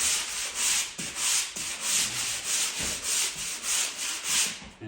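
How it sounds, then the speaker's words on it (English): A small palm sander works over a drywall repair patch, a steady close-up rasping hum with rhythmic surges as it is pushed back and forth, running alone without talk. "now we're gonna use this little palm sander to sand it"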